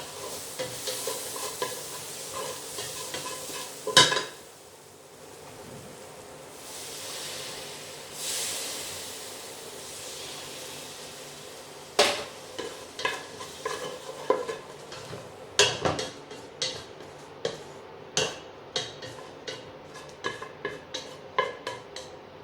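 Sweet potato enchilada filling sizzles and hisses in a hot pan, beginning to burn, while a utensil stirs and scrapes through it in a steady run of close clatters and scrapes, with no talking.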